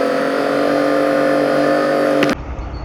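A semi truck with a step deck trailer runs steadily with a loud, constant engine drone, which cuts off abruptly near the end, leaving quieter rumble.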